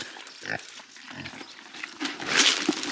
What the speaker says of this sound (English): Oh, I love pigs.